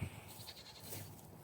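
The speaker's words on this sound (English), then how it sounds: "Y'all can hear my goats in the background." Goats in a snowy yard bleat faintly in the distance, a brief wavering call or two under a quiet outdoor background.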